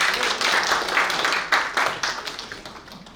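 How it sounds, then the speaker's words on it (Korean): Listeners at an academic history lecture give a presenting professor a round of applause, a brisk burst of many clapping hands heard close and steady, tapering slightly toward the end. "큰 박수 부탁드립니다"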